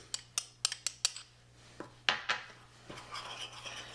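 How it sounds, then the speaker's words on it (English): A utensil clinks and scrapes against the side of a bowl while whole milk and powdered sugar are stirred into icing for hot cross buns, giving a quick run of sharp taps followed by slower, softer scraping. "we're just going to stir this together until it's smooth"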